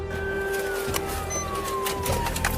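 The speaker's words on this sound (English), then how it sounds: "Sirens filled the streets as they tried to stop it" A police siren wails in the distance during a chase, its tone sliding slowly downward over a low steady hum and faint traffic noise.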